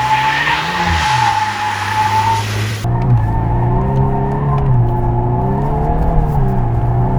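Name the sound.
car drifting with tires skidding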